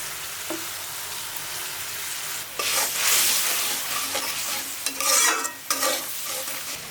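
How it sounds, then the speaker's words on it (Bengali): Garlic paste and ginger paste fry in hot oil while a spatula stirs them around the pan, with steady sizzling and several louder bursts of scraping and stirring. "রসুন বাটা আদা বাটা আদা বাটা এখন ভালো করে কষিয়ে নেব"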